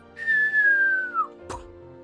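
A voice imitates fireworks launching with a single long, high whistle that slides slowly downward, followed by a short breathy burst, alone and close.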